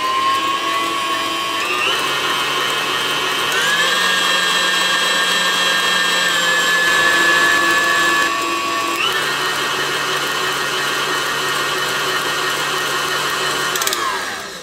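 An electric blender or mixer whirring through pineapple pie filling with flour, a loud steady motor whine whose pitch steps up and down several times before it winds off.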